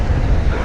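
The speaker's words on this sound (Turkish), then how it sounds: "İnanılmaz bir rüzgar var." Strong wind buffets the microphone on a beach along the coast of an isolated island in Taiwan, a loud, steady, rumbling roar with no clear pauses.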